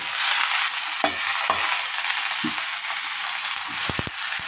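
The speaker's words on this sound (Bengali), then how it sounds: "এখানে আলু পেঁয়াজ ভাজা" Potatoes and onions frying in a pan, a loud steady sizzle close by, punctuated by a few sharp spatula knocks and scrapes.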